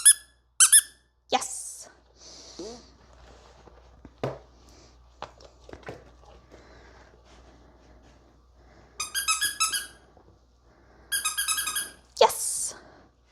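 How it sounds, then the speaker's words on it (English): A squeaker toy is squeezed as a distraction during dog obedience training indoors, giving several sharp bursts of rapid squeaks, loud and close, with a trainer speaking briefly in between and quiet shuffling sounds. "Now we'll add our new distraction. We've got our squeaker."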